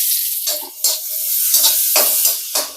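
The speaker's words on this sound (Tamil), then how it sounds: "எண்ணெய் காஞ்சதும் வெங்காயத்தை சேர்த்துக்கலாம்." Chopped onions hit hot oil in a pan for South Indian fish puttu, giving bursts of loud close sizzling and stirring that swell and fade in several waves over a steady hiss, with no talk.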